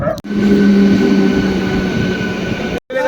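Loud rumble of a train rolling into Bardhaman station, with a low droning hum and faint wheel squeal, cut by two brief silences.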